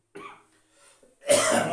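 A person coughs indoors, first a short muffled cough followed by faint throat noise, then a louder, harsher cough bursts out near the end, close and unaccompanied by speech.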